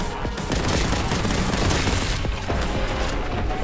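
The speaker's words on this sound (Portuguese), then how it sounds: "Pronto, tomamos muito tiro," Sustained rapid gunfire from the shooter game Warhammer 40k Boltgun, loud bursts and thumping impacts packed tightly together with no letup across the few seconds.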